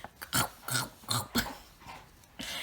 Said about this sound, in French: je pense que mon chien est en train de manger juste parce que je ne m'occupe pas de lui